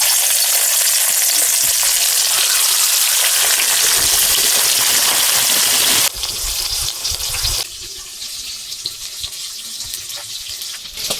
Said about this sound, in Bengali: এবার মাছ ভাজার জন্য কড়াইতে তেল দিয়ে দেব।